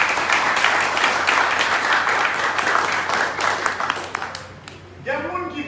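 Loud, dense applause from an audience at a Jacmel town hall event, as the city key is handed to a band, fills the first four seconds and then fades as a voice begins speaking.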